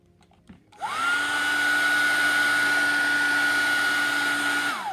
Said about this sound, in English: I may actually use my hair dryer because it'll dry relatively quickly with a hair dryer.